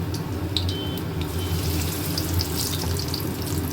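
Chickpea-greens fritters frying in hot oil give a steady, even sizzle throughout, close and moderately loud, with no talking.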